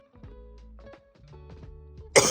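Low, tonal rumbling gives way to one sudden harsh cough at the very end, loud and close.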